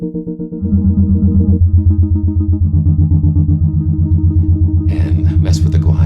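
Electric guitar string driven by an electromagnet and run through a Bode frequency shifter, giving a steady sustained pitched drone with shifting, warbling inharmonic overtones and a pulsing texture, loud and alone throughout.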